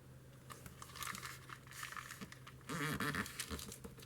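A paper signature for a library case book is folded by hand, making soft crinkling and rustling with a louder crisp crease partway through, close and quiet.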